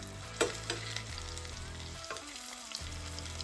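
Wild rabbit pieces pan frying in beef tallow give a steady, fairly quiet sizzle with a few soft pops and brief stirring or flipping sounds, close up and with no talk.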